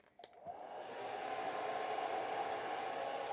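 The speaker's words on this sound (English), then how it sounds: "I'm going to use the hair dryer" A hair dryer drying a watercolor painting switches on and runs with a steady, even whoosh that swells briefly and then holds, close by with no talking.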